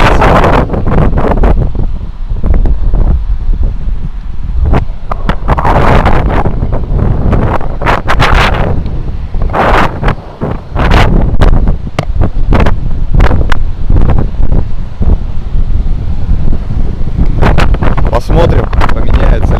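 Strong sea wind at Nha Trang, Vietnam, buffets the microphone loudly and continuously, with rough rumbling gusts surging and easing for the whole stretch.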